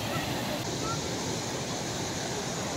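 Water flows at the Damera waterfall in Jashpur: a constant, dense roar of rushing water close by, steady and broadband, with some wind buffeting on the microphone.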